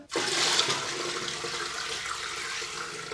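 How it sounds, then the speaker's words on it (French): Cold water gushes from a tap into a canning pot holding jars, a loud, steady rushing splash that starts abruptly and keeps flowing alone at close range. "Maintenant, on va remplir notre cuve d'eau froide."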